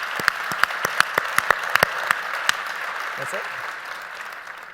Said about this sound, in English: So if we could give them a quick round of applause as well